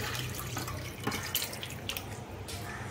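Fish poured into a finished, well-fried gravy in a pan while cooking a vegetarian-style fish dish, a soft, steady wet pour with faint drips and splashes, close and quiet, no voices.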